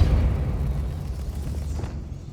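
A Depulso spell goes off in the video game Hogwarts Legacy, a low booming burst at the start that rumbles and fades away over a couple of seconds.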